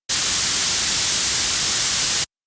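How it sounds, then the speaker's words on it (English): A steady, even hiss of band-pass filtered white noise from the Noize 2 plugin holds at constant loudness for about two seconds, then cuts off abruptly into silence. "a traditional white noise with a band pass filter"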